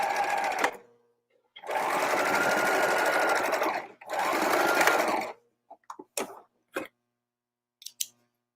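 A sewing machine stitches the center back seam of an undercollar in two steady runs of rapid whirring, a longer burst then a shorter one, followed by a few small clicks and handling sounds; no talking.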